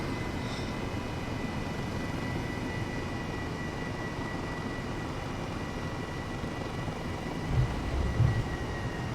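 A small airplane touches down at the Silverstone Motor Circuit add-on in Microsoft Flight Simulator 2020, a steady broadband engine and wind drone holding throughout with a brief low thump of touchdown near the end.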